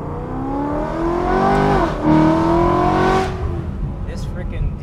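A tuned BMW E93 M3 convertible with a high-revving V8 and DCT transmission revs loudly up and down nearby, its engine pitch climbing, dipping and climbing again, with a voice talking over it.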